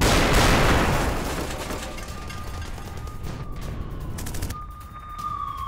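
Air raid sirens wailing over Tel Aviv, a long rising and falling tone over loud, rumbling background noise that eases midway, with no speech.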